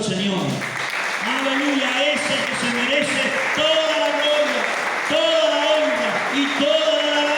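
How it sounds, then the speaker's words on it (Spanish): A church congregation claps steadily throughout, a dense continuous wash of applause with a voice speaking over it. "den un aplauso al Señor"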